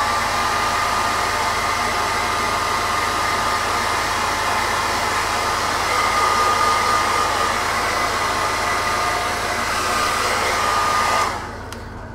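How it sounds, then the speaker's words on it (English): A hair dryer blows loudly and continuously at close range, a steady whooshing roar that cuts off abruptly just before the end. "I'm just going to give this a blast with a hairdryer, so apologies for the loud, annoying sound"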